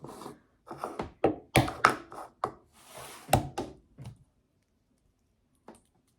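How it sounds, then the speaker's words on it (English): An egg preserved in water glass is cracked open by hand, giving a cluster of close, sharp taps and crackling shell sounds with rustling, then near silence and a faint final click. "So we're gonna crack this egg open in this."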